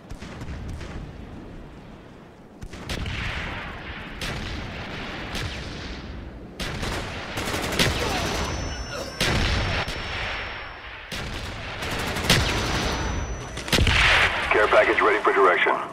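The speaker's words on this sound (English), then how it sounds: "Enemy mortars incoming." Incoming enemy mortar fire in Black Ops 1 arrives as a series of heavy, booming explosions and bursts of gunfire, loud and close, with game radio voices talking over them.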